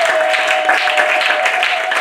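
Congregation applauding at a church service, a dense burst of many hands clapping steadily, close and loud, with a faint tonal hum underneath.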